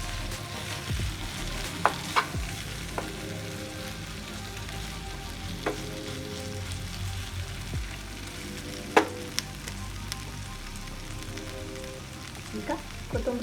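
Potato palya cooking in a pan with a steady low sizzle throughout, broken by occasional sharp scrapes and clinks of a spoon stirring, moderately close with no voices.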